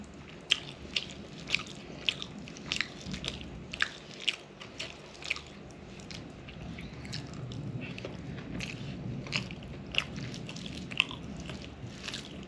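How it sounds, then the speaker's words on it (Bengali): Wet, soft chewing and biting of boiled lentils mashed with boiled potatoes, close to the mic, with repeated squishy mouth sounds and occasional sharper smacks and no talking. "ডাল সিদ্ধ আর আলু সিদ্ধ একসঙ্গে খেতেই ভালো লাগে।"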